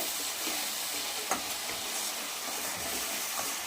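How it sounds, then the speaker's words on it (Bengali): A Bengali masala with turmeric powder sautéing for a doi katla curry, producing a soft, steady hiss of frying with faint occasional stirring scrapes and one brief clink, quiet and close, no speech. "হলুদ গুঁড়ো দিয়ে আমি মশলাটা কষিয়ে নেব"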